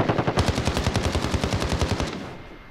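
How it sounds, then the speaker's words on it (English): A long burst of rapid automatic gunfire in a shooter video game, about twenty evenly spaced shots in under two seconds, loud and close, then fading into a short echoing tail. "they're shooting at somebody right now"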